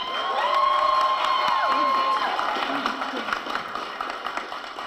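A crowd at a New Orleans gathering cheers, whoops and applauds loudly for a woman being introduced, a dense roar of voices with shouts rising over it that fades gradually toward the end.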